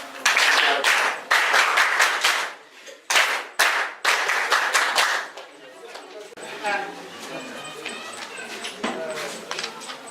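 A high school audience in Gambella breaks into loud group clapping in repeated bursts for about five seconds, then settles into softer crowd chatter and scattered voices.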